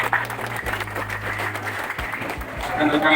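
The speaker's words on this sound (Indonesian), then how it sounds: "Tepuk tangan untuk Kang Japre" Crowd applause for Kang Japre, a PDI Perjuangan party official in Subang, fills the room with steady clapping, a low hum running underneath and the clapping swelling louder toward the end.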